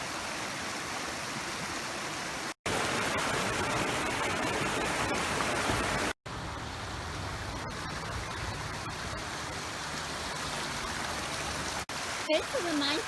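Creek water rushes steadily in a cold outdoor park, a continuous broadband wash of flowing water, close and fairly even, broken by a couple of brief cuts, with a voice briefly audible near the end.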